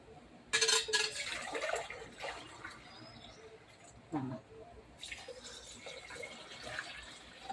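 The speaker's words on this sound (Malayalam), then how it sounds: "ഇതിലേക്ക് നമുക്കുണ്ടല്ലോ വെള്ളം അളന്ന് ഒഴിക്കുക" Water is poured into a pot of ration rice for biryani, splashing and trickling faintly in short bursts amid kitchen clatter and small knocks.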